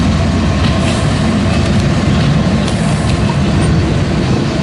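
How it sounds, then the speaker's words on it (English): A northbound manifest freight train rolls past on the Sioux City Sub at Fremont, Nebraska, a loud, continuous rumble of wheels and cars, close by and unbroken for the whole stretch. "Again, northbound manifest on the Sioux City Sub."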